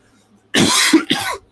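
A close, harsh cough from a person with a cold comes in two bursts, the first drawn out and the second shorter, with silence around them.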